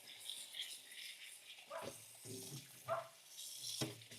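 Tap water runs in a kitchen sink while beef pieces are rinsed for pho, a steady splashing gush with bursts of handling and clatter as items move under the stream.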